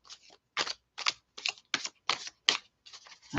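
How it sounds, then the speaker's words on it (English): Playing cards are ruffle-shuffled, Vegas style, with a string of sharp, crisp riffling bursts at an even pace, close and fairly quiet, with no talk. "I do a ruffle shuffle, Vegas shuffle"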